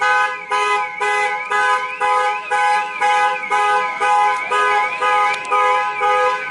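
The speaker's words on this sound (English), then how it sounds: "we're going to get away from this noisy flipping car alarm" A loud car alarm on a street in London's East End repeats a steady pulsing electronic whoop, cycling in regular bursts about twice a second with no talking.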